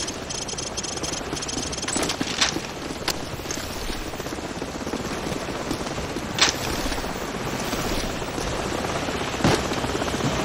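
An enemy helicopter in Call of Duty 4 holds a loud, steady rotor drone throughout, with a few sharp bangs and thumps of combat breaking through along the way.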